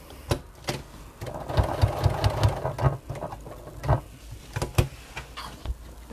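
A sewing machine stitching a tote bag handle: close, irregular bursts of rapid mechanical whirring and clatter, with sharp clicks between short runs of stitching.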